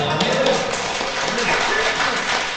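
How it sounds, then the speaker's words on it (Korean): A church congregation at Hayan Catholic Church in the Suwon diocese applauds in a dense, steady wash of many hands that fills the hall, with a voice faintly audible beneath. "지금 박수 치는 사람 더 받으세요."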